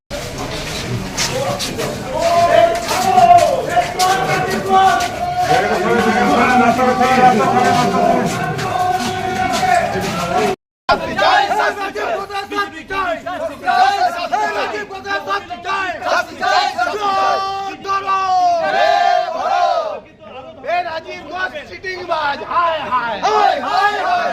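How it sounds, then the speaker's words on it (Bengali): A large, loud crowd outside the Durgapur subdivisional court chants the slogan 'chor chor' (thief) in rhythmic, repeated shouts, with voices swelling and overlapping in a continuous roar that briefly cuts out and then resumes. "চোর চোর এই জন্যই স্লোগান দিচ্ছিলাম"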